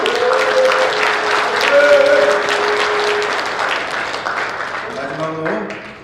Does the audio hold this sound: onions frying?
no